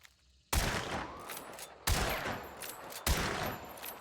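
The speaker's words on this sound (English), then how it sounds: "Without it, this gun's hipfire will shoot like this." Three loud gunshots from hipfire in Hunt: Showdown 1896, a period firearms game. Each crack is followed by a long echoing tail, spaced about one and a quarter seconds apart, with no talking.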